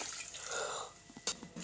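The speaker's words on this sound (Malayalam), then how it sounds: "ഇനി നമുക്ക് പാകത്തിനുള്ള വെള്ളം പോരും കേട്ടോ" Water is poured into a pot of simple green peas curry as it cooks. A short splash and gurgle of liquid is followed by a few brief drips and clinks.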